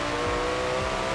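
A supercar engine revs hard in Forza Horizon 4, a steady, loud, high-pitched roar held for a moment with no pauses and no voices over it.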